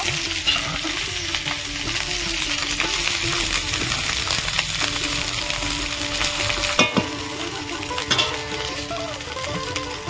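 Vegetable fried rice frying and being stirred in a hot pan, a steady loud sizzle broken by scraping stirs and a few sharp clinks of the utensil against the pan, with no talking.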